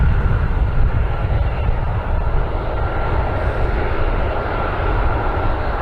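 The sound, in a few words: aircraft passing over airfield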